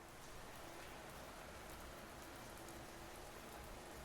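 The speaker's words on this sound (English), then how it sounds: "the rain kept falling as it always had" Steady rain falls continuously, a soft, even hiss of drops spread across the whole stretch, faint and unbroken with no voices or other sounds.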